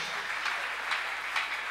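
Congregation at a church healing service applauding, a steady wash of crowd clapping at moderate distance, fairly faint, with no voices over it.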